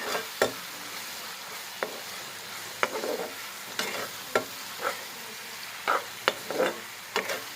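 Ingredients stir-fried in a pan make a soft, continuous sizzle broken by repeated scraping strokes of a spatula, heard close and without talk.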